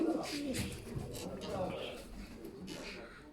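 Pigeons coo softly in a coop in a low, rolling murmur, mixed with faint chirps and a voice speaking nearby.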